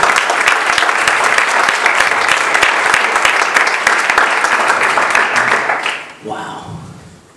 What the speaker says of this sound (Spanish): Sí, un aplauso al Señor.